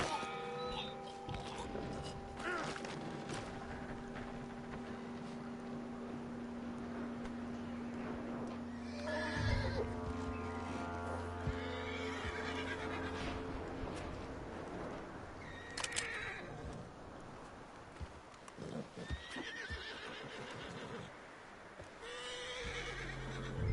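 A horse whinnies amid game ambience in Red Dead Redemption II, with hoof clip-clops and a dense layer of background sound throughout; the neigh is moderately faint, mixed under other noise rather than standing alone.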